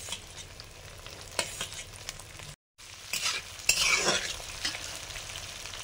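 Carrot and capsicum fry in a hot pan with a bright sizzle and clattering stirs. A brief cut interrupts the sound, and a louder burst of hissing follows as the vegetables are tossed. No voices.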